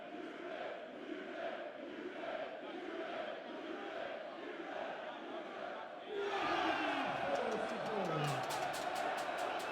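A darts match crowd at Steel City Darts roars and chants, a dense hubbub that swells louder partway through with cheering and whistles.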